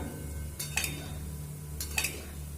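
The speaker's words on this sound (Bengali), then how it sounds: "জাস্ট এইভাবে খুন্তিটা তলা দিয়ে এইভাবে নেড়ে নেড়ে ভেজে নিতে হবে" A spatula stirring semolina frying in a pan for a sweet, two pairs of light metallic scrapes and taps over a low steady hum, fairly quiet.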